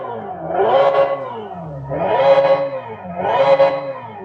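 Hyundai Ioniq 5 N electric car playing its synthetic Evolution drive sound, a futuristic harmonic engine tone that swells and falls three times in steady revving waves, loud and close with no talk.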